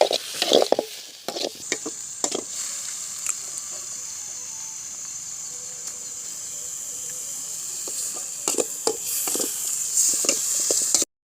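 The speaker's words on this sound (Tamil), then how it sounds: "வெங்காய தக்காளி பச்சை மிளகா மூணுத்தையும் போட்டு வதக்கலாம் நல்லா பொன்னிறமாக வெங்காயம் வர வர நல்லா வதக்கணும்" Onion, tomato and green chili sauté in a pan at an outdoor village cookout, with a constant sizzling hiss broken by sharp scraping stir strokes, clustered at the start and end.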